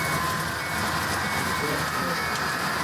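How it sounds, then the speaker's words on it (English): HO model trains roll along a track at a model railway club, giving a continuous, even rumble and hiss throughout with no clear breaks, no talk heard. "sight and sounds of trains moving down the track are met with delight"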